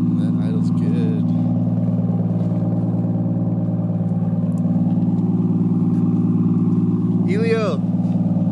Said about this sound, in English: That idle's good.